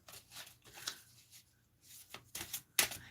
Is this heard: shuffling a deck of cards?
yes